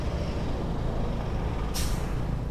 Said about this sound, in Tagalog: Kasabayan tayo ng malaking sasakyan, bus.